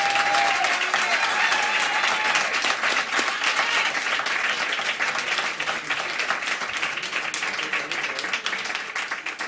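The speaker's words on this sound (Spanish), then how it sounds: "quiero un aplauso ya" Warm, sustained applause from a jazz club audience for a band at AC Recoletos Jazz in Madrid, dense and continuous, tapering slightly toward the end.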